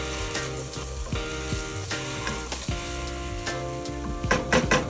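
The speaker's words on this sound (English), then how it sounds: "Now, very important. Cook the tomato paste." Mushrooms and tomato paste fry and sizzle in a hot pan, with steady close hiss and repeated scrapes and knocks of a spoon stirring against the pan, a few louder clatters near the end.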